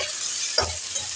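Boiled taro stolons fry in a pan with a continuous bright sizzle, broken by one quick scrape of stirring midway, close up and without speech.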